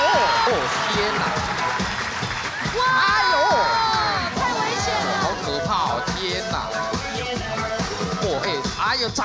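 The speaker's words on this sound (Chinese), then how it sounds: "掌声给他鼓励，掌声鼓励" Studio audience at a 2011 Taiwanese variety show clapping and cheering nonstop, loud and dense with whoops, mixed with excited talking and shouting throughout.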